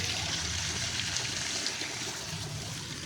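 Steady running water from a tap, a continuous broadband splashing hiss with no pauses and no talking.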